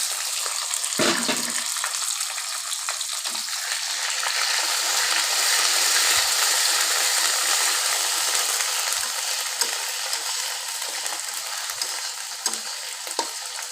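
Onion paste and chopped tomato fry in a pan for a Bengali bata fish curry, producing a loud, continuous hissing sizzle with occasional soft clicks and knocks of a utensil.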